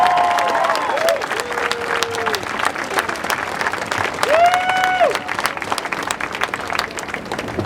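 Outdoor labor rally crowd applauds a speaker, sustained dense clapping mixed with scattered cheers and whistles, lasting the whole stretch.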